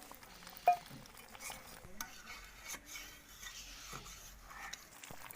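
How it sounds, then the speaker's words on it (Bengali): A utensil stirs tomato sauce into water in a pan with soft, intermittent scraping and clinking, quiet and close. One sharper clink stands out near the start. "জলের সাথে টমেটো সসটা মিশিয়ে যত দিয়ে দেব।"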